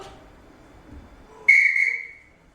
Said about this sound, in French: j'entends les flics sans arrêt siffler